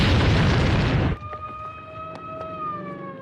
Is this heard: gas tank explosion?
yes